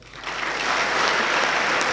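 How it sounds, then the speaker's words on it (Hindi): An audience breaks into applause, the clapping swelling quickly and then holding as a dense, even roar of hands for the rest of the moment. "बैठ जाओ, इतिहास के लिए ताली बजाओ।"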